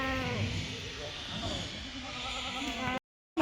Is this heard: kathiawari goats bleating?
yes